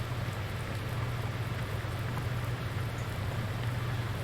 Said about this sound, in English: I'm glad we're getting the rain